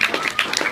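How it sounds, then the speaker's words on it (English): Brief audience applause at a pub music competition at The Ship for the first competitor, a short spatter of moderate clapping with scattered sharper claps. "Give her a round of applause, will I?"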